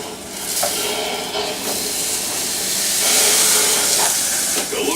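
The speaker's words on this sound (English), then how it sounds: "Bryce will now add 2 cups of rice to his boiling water." Two cups of rice go into a pot of boiling water, making a continuous loud hiss and bubbling rush that swells and fades, with faint clinks and thin background sound.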